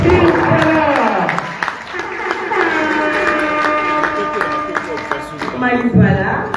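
Steady applause from a crowd at a gala honoring Congolese theatre icons fills the clip, with voices and music-like tones running underneath throughout.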